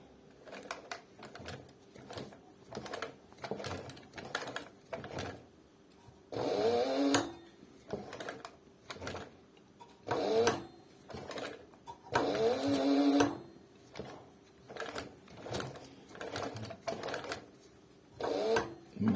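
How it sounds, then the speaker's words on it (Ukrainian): A heavy-duty Dekor 323 sewing machine stitches two layers of 7 mm thick leather in short bursts, its motor whirring and stitching rhythmically, separated by pauses and mechanical clicks. "зараз будемо шити цією ниткою"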